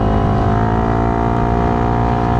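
Loud, steady motorcycle exhaust fitted with a silencer on a delivery rider's bike, a dense low harmonic drone holding an even pitch without a break, close to the listener.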